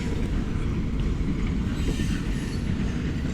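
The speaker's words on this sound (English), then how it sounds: "in the background, we're celebrated by a great train moving through" A train rolls past a women's sports final venue in a steady, dense rumble with faint wheel squeal and rail clatter, continuous and moderately loud in the background with no talk.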